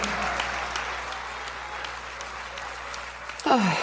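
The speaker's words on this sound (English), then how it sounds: "the entire church raised to its feet and applauded for those men and women" A church congregation at a funeral applauds together in a sustained, dense wash of clapping that holds steady and then cuts off abruptly.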